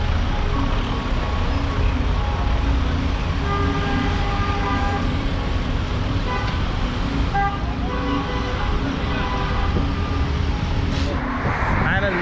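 Military vehicles carrying soldiers roll along a road in Area B of the West Bank, a steady wash of traffic noise with brief horn toots and a voice speaking over it.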